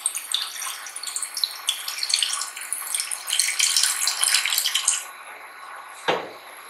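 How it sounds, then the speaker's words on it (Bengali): Water pours and splashes into a wok sitting on an induction cooker, a bright steady gush for several seconds that stops, followed by a single short clank. "কড়াইটা ইন্ডাকশনে বসিয়ে দিয়ে ইন্ডাকশনটা চালু করে দিলাম, দিয়ে 1400 দিয়ে দিয়েছি, দিয়ে কড়াতে খানিকটা জল দিয়ে দিচ্ছি।"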